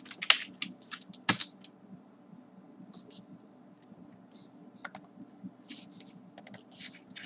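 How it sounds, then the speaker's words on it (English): JavaScript code being typed on a computer keyboard, with scattered close key clicks coming in short bursts and pauses over a faint low hum. "You need to type var function."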